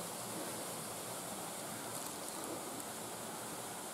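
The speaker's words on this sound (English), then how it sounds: "You can hear water flowing and" Water flowing steadily outdoors in the early morning, a continuous broadband rush like a stream or small waterfall, even and unbroken throughout.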